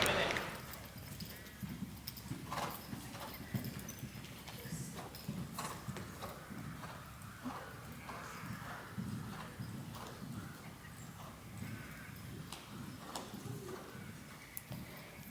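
A horse canters around an arena during a riding lesson, its hoofbeats a steady rolling clip-clop close by, with a voice speaking over them and faint birdsong in the background.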